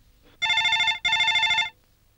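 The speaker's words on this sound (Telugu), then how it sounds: "ఫోన్ మోగుతుంది, ఎత్తచ్చు కదండి." A telephone rings in a Telugu film scene: two loud electronic ring bursts of about half a second each, separated by a short gap, in an otherwise quiet room.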